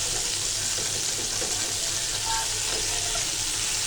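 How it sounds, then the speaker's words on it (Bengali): Bata fish fries in a pan with a constant, even hissing sizzle, close and uninterrupted throughout. "মাছটা ভালো করে ভাজতে হবে"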